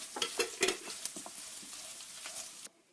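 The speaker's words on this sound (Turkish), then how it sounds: "Şimdi üzerine birazcık tuz kırmızı biber ilave edeceğim hemen renk verebilmesi için. Şimdi güzelce karıştıralım." Beef doner frying in a pan with salt and red pepper, stirred with quick scraping strokes over a constant close sizzle that cuts off abruptly near the end.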